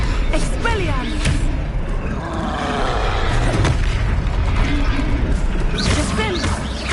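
Expelliarmus disarming spell cast in Hogwarts Legacy, heard amid a loud, dense roar of magical booms, whooshes and combat effects, with game voices over the din.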